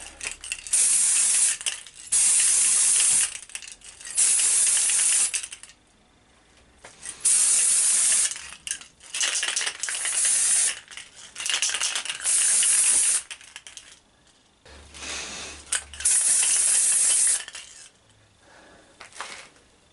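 Repeated bursts of spray paint hiss from a can onto a mood-light globe, about nine short blasts separated by brief pauses, close and fairly loud.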